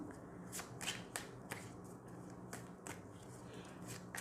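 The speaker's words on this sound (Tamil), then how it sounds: "திரும்ப மறுபடியும் சஃபல் பண்ணி எடுக்கிறேன்" A deck of cards is shuffled again during a card reading, giving quiet, rhythmic bursts of crisp snapping riffles about every half second.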